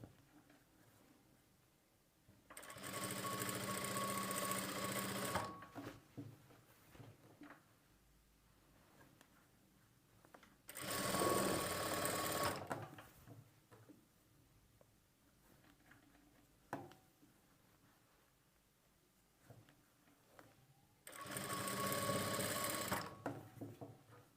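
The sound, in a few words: sewing machine stitching piping on a blouse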